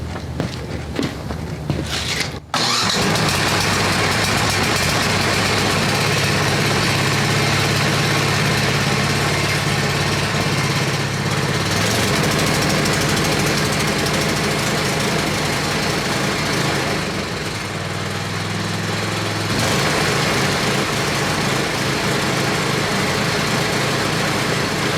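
After a click, a Craftsman 28-inch tracked snowblower with electric start fires up, choke partly off, and its small engine keeps running steadily and loudly for over twenty seconds.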